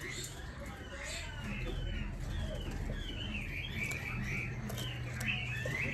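A male hwamei songbird offered for sale gives faint, thin chirps and whistled calls under someone talking in Vietnamese. The bird is quiet and partly masked throughout.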